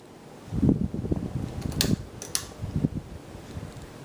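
A Hampton Bay Redington IV ceiling fan running, with a soft whooshing air noise that swells and fades irregularly, faint and close, and a few brief clicks.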